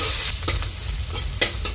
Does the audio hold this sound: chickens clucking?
no